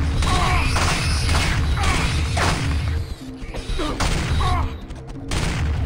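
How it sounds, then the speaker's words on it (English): The Firestorm cannon fires in the video game Turok 2: Seeds of Evil, with rapid bursts of loud blasts and crashing impacts. The volume stays dense, then dips in brief gaps. "Firestorm cannon."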